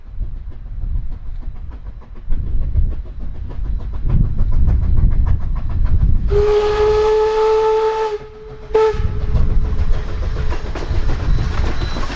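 Steam locomotive No. 1903 works through Toltec Gorge with rhythmic chuffing and rail clatter, then sounds a loud, sustained steam whistle, cut briefly and resumed, before the chuffing carries on.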